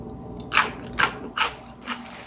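Crunching bites into homemade bread and butter pickles: four crisp, close crunches spaced about half a second apart, each a sharp burst over quiet background.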